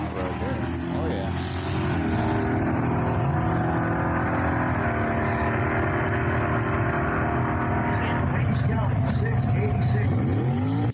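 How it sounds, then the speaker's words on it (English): A badass-looking hot rod with a rat-rod sleeper look runs loud and close, its engine holding a steady rumbling drone with a brief shift in pitch midway, while people talk over it. "that's a good running car"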